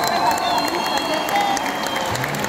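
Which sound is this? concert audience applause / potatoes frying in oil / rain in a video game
concert audience applause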